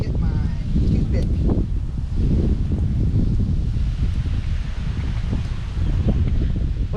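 Steady wind gusts outdoors at a camp, blowing across a Dutch oven heaped with charcoal briquettes, a loud continuous rumble and buffeting on the microphone with faint rustling throughout.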